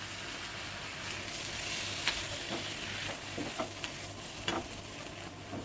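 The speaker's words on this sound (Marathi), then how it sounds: "आता आपण जी भेंडी भाजून घेतली ते त्यामध्ये टाकूया" Roasted okra with onion-coconut masala stirred and frying in an iron kadhai, a steady low sizzle with scattered scraping clicks of a spoon against the pan, close and continuous with no talking.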